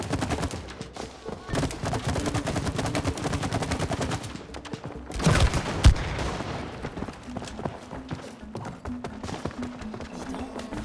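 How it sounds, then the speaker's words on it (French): Dense, continuous rapid-fire shots from a resin launcher and match rifle in the It Takes Two video game, loud and relentless, with a heavier burst in the middle and faint voices underneath. "Le lance-résine Alpshaki, fusil à allumette flamme, sont puissants seuls. Mais ils deviennent létaux une fois tirés."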